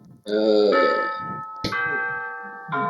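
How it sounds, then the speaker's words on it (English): A bell rings twice in a quiet room, each strike a clear metallic tone that lingers and slowly decays, with a softer third touch at the end and faint murmurs between. "yeah, that's my bell."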